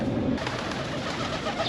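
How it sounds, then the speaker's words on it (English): Pigeons coo steadily at close range at 7 a.m. on a Wednesday in Las Vegas, a soft continuous murmur of several birds with no talking over it. "The birds are hungry, but I don't have any seeds."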